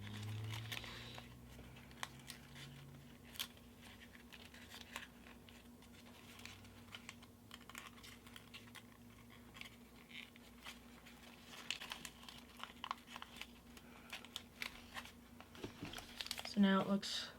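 Paper is creased and mountain-folded for an origami baby dragon, with soft crinkles, taps and brief rustles scattered at close range beneath a talking voice, growing busier toward the end.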